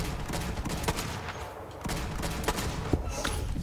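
Bursts of gunfire from the shooter video game Borderlands, sharp repeated shots in an irregular run over a steady backdrop of game noise, with no talking.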